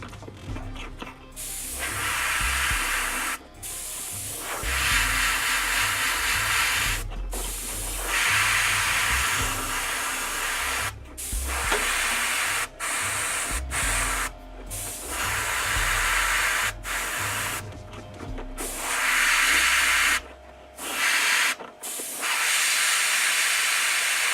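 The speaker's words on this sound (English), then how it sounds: "So I'm gonna take Ultramarine blue and again through the airbrush I'm going to apply this." An airbrush sprays Ultramarine blue paint onto wargaming miniatures in a hobby studio, giving a steady close hiss in long bursts broken by short silent gaps as the trigger is released and pressed again.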